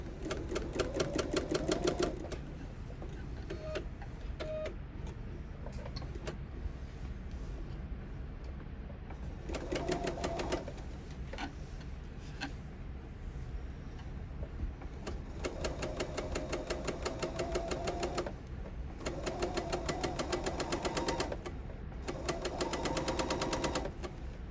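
Sewing machine stitching a narrow topstitch along an edge, running in several short bursts of rapid, fairly soft chattering with quiet gaps between.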